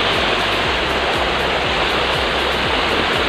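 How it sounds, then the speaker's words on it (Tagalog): Steady, loud rushing of a small waterfall at a bathing spot, a constant close-up roar of falling water with no voices over it. "Yan! Mini falls!"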